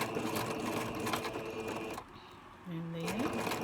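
Sewing machine stitching a piece of tulle laid over ribbon for a fluffy tutu, a steady close mechanical whir with a brief pause and a low rising tone, then stitching resumes; a voice talks over parts of it.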